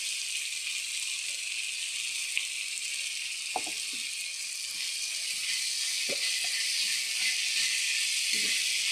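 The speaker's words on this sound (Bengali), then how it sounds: "ভালো করে এটা ভেজে নেবো বন্ধুরা" Potatoes for dum aloo fry in a pan with a steady, close sizzle and hiss throughout, punctuated by a few faint clicks of a utensil, with no voices.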